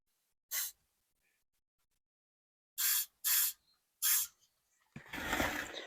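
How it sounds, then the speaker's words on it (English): PB Blaster penetrating oil sprayed from an aerosol can onto 40-year-old brake lines: three short, sharp hissing bursts after an earlier single puff, then a longer rougher spray with clatter at the end, close and loud with no talking. "The PB Blaster. Penetrating."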